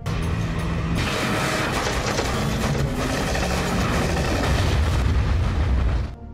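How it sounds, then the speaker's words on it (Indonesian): A car blown up in a gangster action scene: a loud, sustained explosive roar and rumble lasting about six seconds before cutting off abruptly, with no talk. "setelah mendengar suara ledakan"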